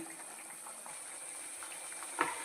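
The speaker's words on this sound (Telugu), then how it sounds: "మటన్ బాగా ఉడుకుతుందండి" Pieces of mutton boil in a pot of water while cooking for biryani. A faint, steady bubbling simmer is heard alone, with one slightly sharper pop near the end.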